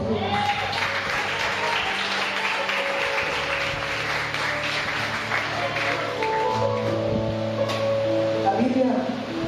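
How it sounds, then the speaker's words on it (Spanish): Congregation clapping for God during a worship service, steady continuous applause mixed with sustained music and voices throughout, loud and close. "¿Por qué no le das un aplauso a Dios?"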